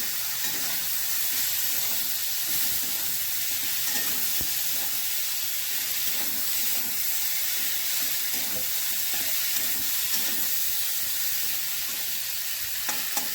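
Cauliflower fries in a pan with a continuous sizzle while a utensil stirs and scrapes it at an even pace.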